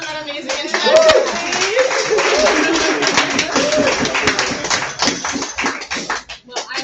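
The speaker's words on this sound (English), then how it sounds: "Can we get another round of applause for Sean and that amazing introduction" Lively applause and cheering from a room of guests at a Negroni Week cocktail competition, dense clapping with voices talking and calling out over it, trailing off toward the end.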